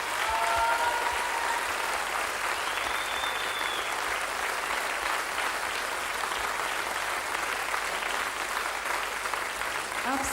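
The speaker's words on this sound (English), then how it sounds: "How about a nice warm round of applause" A concert audience gives a warm, sustained round of applause, dense steady clapping that fills the hall throughout.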